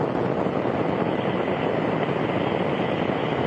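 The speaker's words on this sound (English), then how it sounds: "Liftoff of the Soyuz rocket transporting Mike Fincke, Yury Lonchakov, and Richard Gar" Soyuz rocket first-stage engines at liftoff on the Soyuz TMA-13 launch, a continuous broad roar that holds steady and loud with no breaks and no voices.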